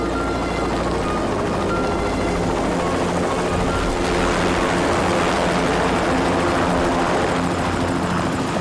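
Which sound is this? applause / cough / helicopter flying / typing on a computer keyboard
helicopter flying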